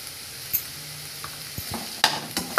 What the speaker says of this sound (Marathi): कांदा आपण छान परतून घेतला आहे, आता आपल्याला हळद टाकायची